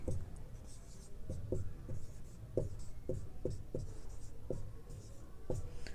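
A teacher writes math notes during a class 9 lesson, producing a series of short, crisp marker or pen strokes in irregular rhythm over a faint steady background hum.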